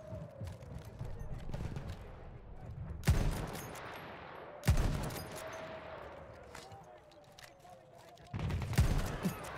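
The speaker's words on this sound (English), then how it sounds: "Some German machine guns at my back kinda encouraged me to keep my head down." German machine guns fire in the World War I shooter Battlefield One, with bursts of gunfire rattling through a busy battlefield din, loud cracks rising at intervals over a steady rumble of distant fire.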